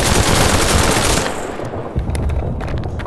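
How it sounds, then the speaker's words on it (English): Machine gun firing in a trench battle video game, a dense loud burst of rapid shots that cuts off partway, followed by scattered sharper shots and clatter. "Machine gunner inbound for support."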